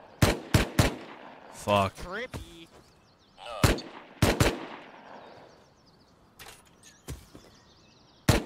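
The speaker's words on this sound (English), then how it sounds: "He's getting shot at by another guy." Sharp gunshots crack from the Rust video game in scattered single shots and short bursts over several seconds, some loud and close, others fainter, with a brief voiced exclamation and a muffled voice between them.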